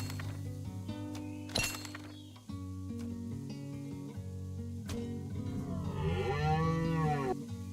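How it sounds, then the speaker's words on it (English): A cow moos in the game BitCraft Online, a clear drawn-out call near the end, over a busy bed of game music, clinks and thunks. "Moo."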